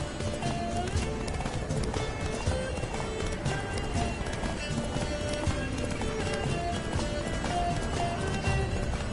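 Galloping horse in The Witcher video game, a rapid, steady clip-clop of hooves running continuously and loudly, with occasional neighs and game music over it.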